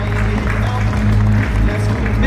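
An audience at a panel discussion event in India applauding the panelists as they are introduced, steady dense clapping over a low hum from the hall's sound system.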